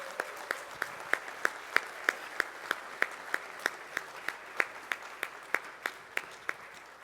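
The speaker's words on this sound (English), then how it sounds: "Please, an applause for Roberto." Applause for the host at a neurosurgery mentor honor dinner, heard as a fairly faint room of clapping with one nearby pair of hands striking a steady, evenly spaced beat throughout.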